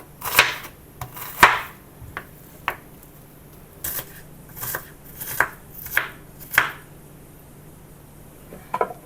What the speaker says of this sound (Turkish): Soğanlarımızı küp küp yemeklik olacak şekilde incecik doğrayalım.